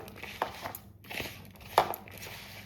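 Salted cabbage being mixed and squeezed by hand, giving soft wet squelches and crinkly crunches, with a few sharper squeezes standing out close by, no talk.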